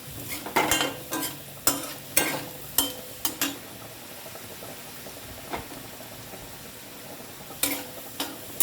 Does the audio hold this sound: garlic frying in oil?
yes